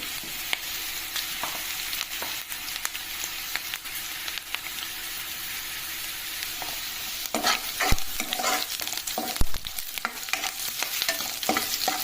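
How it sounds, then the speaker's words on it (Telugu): Chopped onions sizzling in a pan on medium flame, with a steady frying hiss broken by scraping stir strokes and clatters throughout. "కొంచెం ఆనియన్స్ మగ్గనివ్వాలండి బాగా."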